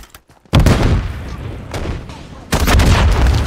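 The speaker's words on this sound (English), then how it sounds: "You gonna RPG me and then fucking shoot me with a sniper" In the Roblox game Jailbreak, an RPG blast and a heavy sniper shot boom out one after another: a loud explosive burst, then a second sharp crack, each with a rumbling tail.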